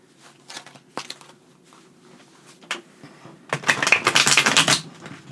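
An essential oil oracle card deck is shuffled in bursts: a few soft clicks and riffles at first, then a dense, crisp run of card flutter lasting about a second, close and alone.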